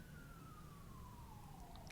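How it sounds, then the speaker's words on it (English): An ambulance siren passing outside, a faint single tone sliding slowly downward as the vehicle moves away, heard steadily behind a low background rumble. "The ambulance"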